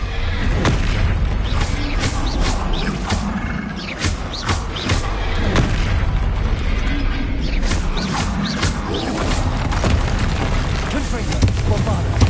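Explosive spell blasts from Hogwarts Legacy combat pound continuously amid dense, loud battle noise, rapid booms and crackling bursts layered over a constant rumbling bed, with a voice speaking through the chaos.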